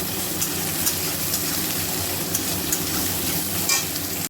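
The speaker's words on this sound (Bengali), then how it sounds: "পেঁয়াজটাকে ভেজে নেব একটু" Onions fry in a pan with a loud, dense sizzle that carries on steadily throughout, close by. Only faint bumps of stirring stand out from the sizzle.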